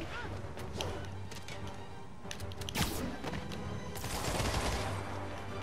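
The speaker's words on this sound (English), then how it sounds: "There's so much gunshot trying to get me." Bursts of rapid gunfire in Marvel's Spider-Man, with sharp cracks and thuds, dense and continuous, with heavier impacts scattered throughout.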